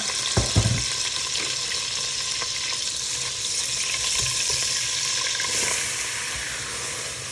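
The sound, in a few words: butter and flour cooking in a saucepan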